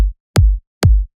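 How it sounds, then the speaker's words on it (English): Three punchy kick drum hits from a future house drop thump in a steady rhythm, each a short, deep, loud boom with a sharp click at the attack, alone without other sounds. "A punchy kick"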